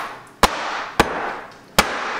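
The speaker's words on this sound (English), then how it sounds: "I'm going to bang this to get this to settle down into the corners and such." A goat milk soap mold, freshly filled with coconut curry leaf soap, is banged down on a hard surface to settle the mixture. Three sharp, loud knocks sound alone and about half a second to a second apart.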